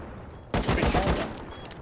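Gunfire in Rust: a short, loud volley of rapid overlapping shots bursting out after a brief quiet stretch, then quickly fading.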